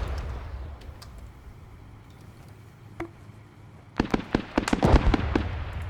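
Rifle grenade explosions in a war video game: a low rumbling quiet passage, then a sudden cluster of sharp cracking blasts and pops in the last two seconds, fairly loud and close, no talk.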